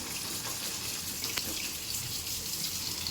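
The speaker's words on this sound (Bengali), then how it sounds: "চলো এই দুটো জিনিস ধুয়ে সব জল ঝরিয়ে নেবো।" Capsicum rinsed under a running kitchen tap: a steady close rush of water splashing into a sink, with faint shifting as the vegetables are turned in the stream and no talking.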